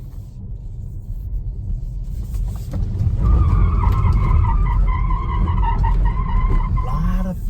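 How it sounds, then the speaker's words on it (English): A Tesla Model 3 driven hard in track mode on a circuit gives a steady rumble of tires and road, joined midway by a rising electric motor whine that holds steady, with no one talking. "you can hear the motor a little bit"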